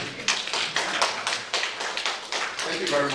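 Audience members at a human rights presentation clap in a fairly loose, steady rhythm of sharp hand strikes, with some talking underneath.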